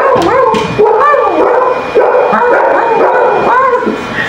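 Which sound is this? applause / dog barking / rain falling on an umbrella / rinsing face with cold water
dog barking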